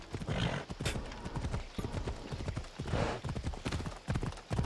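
Horse hooves clip-clopping in a quick riding rhythm in the video game Assassin's Creed Odyssey, with a neigh near the start, fairly loud and steady throughout.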